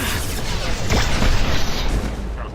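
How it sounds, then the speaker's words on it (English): A flashbang grenade goes off in the video game Mass Effect 2 with a loud booming burst amid dense combat noise, followed by a ringing high tone that lingers and fades, all loud and close. "Watch out! Flashbang!"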